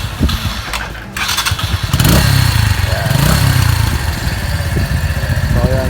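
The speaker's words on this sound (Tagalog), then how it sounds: "So ito yung tunog ng stock na pipe." Keeway Cafe Racer 152 motorcycle on its stock exhaust pipe: a thump and rattle as the engine starts, then a steady, fairly quiet idle close by with a couple of small revs.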